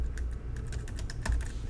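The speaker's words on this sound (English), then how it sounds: "Click on Administrator and then type in the 6-digit PIN" Rapid keystrokes on a computer keyboard as a six-digit PIN is entered, a quick close run of clicks with no talking.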